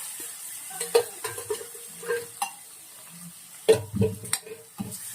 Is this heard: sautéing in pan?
yes